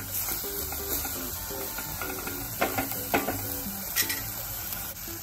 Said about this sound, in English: Add cut fenugreek leaves and give it a stir